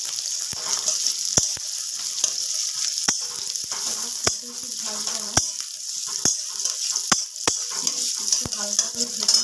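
Chopped onion and green chili fry in a wok for chowmein: a continuous bright sizzle broken by sharp, irregular clicks of a spatula striking the pan.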